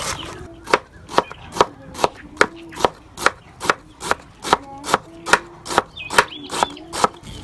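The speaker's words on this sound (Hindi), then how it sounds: "इसकी भी बारीक बारीक कटाई कर लेंगे।" Knife finely chopping cauliflower on a board, a steady run of about twenty sharp, close cuts at an even quick pace, with no talking.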